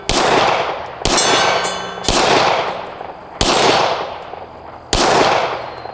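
Five sharp shots from an ATI FXS 9 ring out at irregular intervals over about six seconds, each followed by a brief metallic ring as the round strikes a steel cowboy target outdoors. The shots are loud and close, with no talking.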